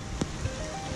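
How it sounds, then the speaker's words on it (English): Heavy rain pouring down outdoors at a fishing spot, a steady dense hiss of drops with a few louder splats, no voices. "Oh, it's pouring down rain!"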